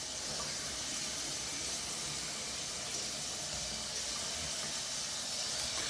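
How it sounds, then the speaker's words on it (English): Hot water runs steadily from a faucet during a move-in inspection of a house, a continuous broadband hiss and splash close by with no one speaking. "I'm checking the hot water right now is what I'm doing."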